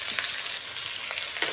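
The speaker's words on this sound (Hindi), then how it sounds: "इन सबको भून लेती हूँ, और भूनने के बाद में फिर इसमें टमाटर डालेंगे।" Garlic and green chillies sizzle and fry in a pan, a steady close crackling hiss with a few brief stirring scrapes.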